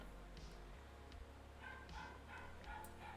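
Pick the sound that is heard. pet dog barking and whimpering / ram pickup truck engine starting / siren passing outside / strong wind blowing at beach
pet dog barking and whimpering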